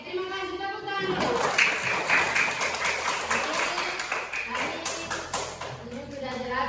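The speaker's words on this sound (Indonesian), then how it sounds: "Tepuk tangan dulu." A class of children in an Indonesian school lesson on Asmaul Husna claps hands together in a loud, dense burst of applause lasting several seconds, with voices mixed in.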